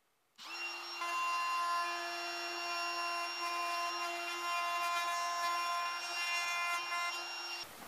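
A handheld router cuts a hinge recess in a closet door, a loud, steady high-pitched whine that holds constant for about seven seconds, close by, then stops abruptly.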